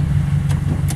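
An Acura RSX Type S car engine running steadily at a car wash on a mild sunny day, a continuous low idle hum close by with no talk.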